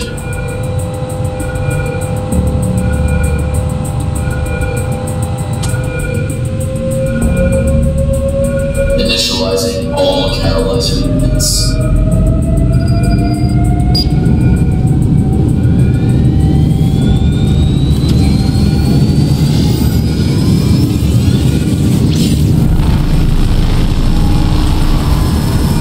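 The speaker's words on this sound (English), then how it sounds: "Reactor startup sequence successful." Reactor startup ignition in the Roblox game Victoria Research Site: a loud, sustained rumbling roar with rising whining tones and sharp bursts of crackle midway, building and sweeping upward as the ignition takes hold, with no talking.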